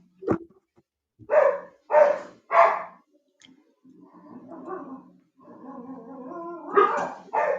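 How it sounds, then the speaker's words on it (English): A Great Pyrenean Husky barks three times in quick, sharp succession, then lets out lower, drawn-out whining and grumbling vocalizations before a final pair of louder barks, all fairly close and alone in a quiet space. "That dog sounds mean."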